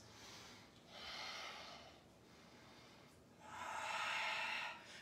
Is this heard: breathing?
yes